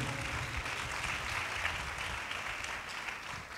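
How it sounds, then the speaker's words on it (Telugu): A church congregation claps loudly together in praise of God, a dense, continuous wash of many hands that stays even and sustained throughout, with no voices standing out. "చప్పట్లు కొట్టి దేవుని మహింపరుద్దాం గట్టిగా."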